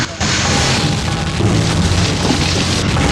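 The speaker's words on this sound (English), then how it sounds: "There's an explosion to the aft, possibly from the throttle assembly." A loud, sustained booming roar from an explosion at the aft of a spacecraft in a flight game, filling the whole stretch after a sharp onset.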